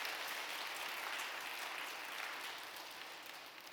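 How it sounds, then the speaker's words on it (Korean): Church congregation applauding together, a steady, even patter of many hands at a moderate distance, holding for the whole stretch and easing slightly toward the end. "우리 박수 한번 칠까요? 하나님 앞에."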